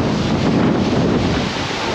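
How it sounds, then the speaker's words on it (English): Strong gusting wind roars continuously across the microphone outdoors just before a storm, loud, broadband and buffeting throughout, with no talking. "Can you guys hear the wind?"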